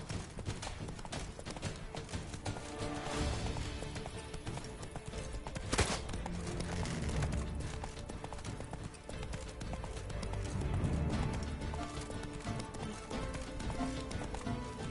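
The horse Roach galloping in The Witcher 3: Blood and Wine, with rapid rhythmic hoofbeats that continue steadily throughout against a busy game soundscape, and a brief louder thud near the middle.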